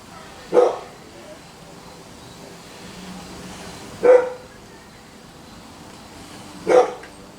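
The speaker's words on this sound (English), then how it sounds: "Neighbor's dog, which is our cousin's." A neighbor's dog barks three times from a distance, each single bark spaced a few seconds apart over a quiet outdoor background.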